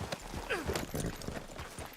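Horse hooves clip-clop at a steady walking pace in Red Dead Redemption, quiet and rhythmic, with brief voices layered over the footfalls.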